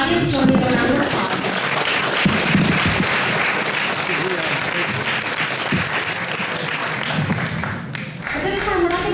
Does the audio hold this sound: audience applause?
yes